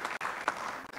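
Applause from a conference audience at a national conference, a short, dense burst of clapping from many hands, steady and fairly close throughout.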